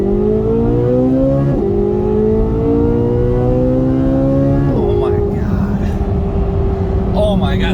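A Chevrolet C8 Corvette Z06 with the Z07 carbon fiber package launches hard on launch control, its engine howling loudly through rising gears with quick shift breaks, heard from inside the cabin as occupants exclaim over it.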